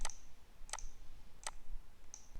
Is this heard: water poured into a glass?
no